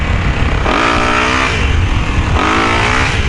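An engine screams high in the rev range during an attempted wheelie, rising in two sharp climbing bursts separated by a brief dip, loud and close with no voices.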